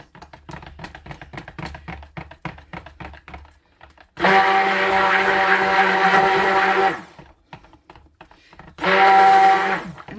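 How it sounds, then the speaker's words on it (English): A stick blender whirs loudly while mixing soy wax shaving soap batter to trace, running in two long bursts, with clattering and tapping from handling the container in between. "And actually, the more I stick blend it, the thinner it becomes again."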